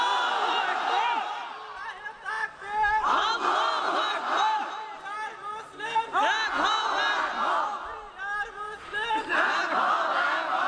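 Large crowd at a religious gathering shouting a takbir slogan in unison, loud, dense voices rising in repeated surges across the whole stretch with scattered overlapping calls.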